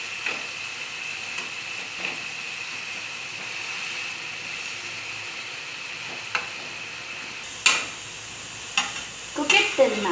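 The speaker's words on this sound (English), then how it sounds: "In a pan, take a little bit of ghee. Add grated onion to it." Grated onion fries in ghee in a pan with a steady, close sizzle, while a spoon stirs and taps against the pan a few times, most noticeably near the end.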